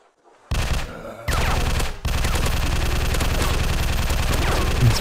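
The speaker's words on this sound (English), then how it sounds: "It's burst fire for some reason." Loud gunfire from an MP5K in the low-poly zombie survival game Zombie Town, short bursts giving way to a dense, sustained rattle of shots over game sound.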